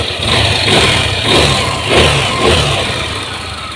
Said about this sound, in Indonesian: Coba hidupkan kembali motornya.